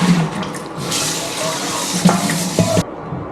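Mushrooms rinsed in turmeric water under a running kitchen tap, a steady splashing stream that cuts off abruptly near the end, with a few clinks and knocks of handling.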